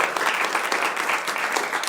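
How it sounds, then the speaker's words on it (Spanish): A roomful of people applauds at a book presentation in the Museo Nacional de Antropología, a brief, steady patter of clapping, moderately loud and continuous. "Un súper aplauso, por favor, para Mario."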